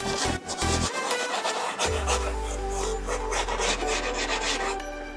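A toothbrush with cleaning spray scrubs the seams inside a microwave, making a steady, close, rhythmic rasping. A low hum runs underneath for most of the stretch.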